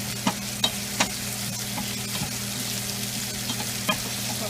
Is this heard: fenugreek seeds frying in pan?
yes